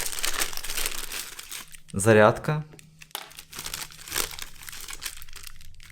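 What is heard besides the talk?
rustling plastic packet from RC drift car kit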